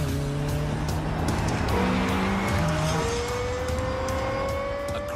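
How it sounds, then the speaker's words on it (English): A Lexus LFA's high-revving V10 engine screams and climbs in pitch, loud and close, with rising gear-change whines and no talking. "Highest revving V10 engine in a production car."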